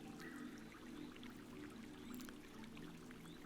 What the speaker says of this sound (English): this lake, which makes like pleasant watery noises